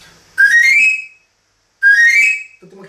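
Papageno pan flute made for vocalists, blown twice close by: each breathy, high, pure note rises in a short slide and then holds for about a second, with silence in between.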